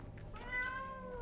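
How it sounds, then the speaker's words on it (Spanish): A single cat meow, short and clear, close and fairly faint, heard alone in a music video. "Miau."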